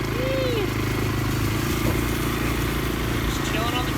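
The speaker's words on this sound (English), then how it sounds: "we rented a 4-wheeler because it's legal to drive 4-wheelers everywhere in Santorini" A rented four-wheeler ATV drives around Santorini, its engine giving a steady, loud motorized drone with wind noise, while talking can be heard faintly underneath.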